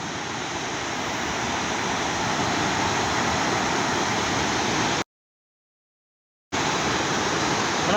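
Muddy mudflow water rushes beside a railway near Issyk-Kul during a storm. It makes a loud, steady roar of broadband noise that cuts out briefly midway, then resumes as strongly.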